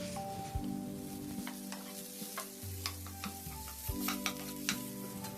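Potatoes are stir-fried in a pan with the earlier sautéed seasoning, heard as a quiet, soft sizzle under a low steady hum. Scattered spatula scrapes and taps recur irregularly.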